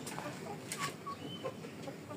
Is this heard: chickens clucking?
yes